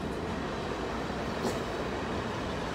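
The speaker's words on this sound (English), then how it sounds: "It's an old train." An old train rolls past in reverse, a steady, loud broadband rumble of wheels and cars that holds evenly throughout with no talking.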